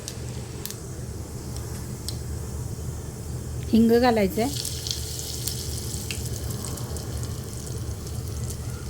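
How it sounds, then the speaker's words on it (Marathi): Mustard seeds sizzle and pop in hot oil in a pressure cooker on a gas flame, a steady crackling hiss running beneath a woman's speech. "मोहरी चांगली तडतडू द्यायची आहे."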